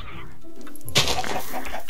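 A green parrot in a video game imitates creeper noises: a brief, close hissing burst of mimicry near the one-second mark that rises over a constant low background.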